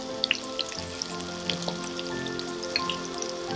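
Crushed ginger, garlic, shallots and green chillies sauté in a pan, giving a soft, steady sizzle with scattered small pops and crackles, quiet and close, with no talking.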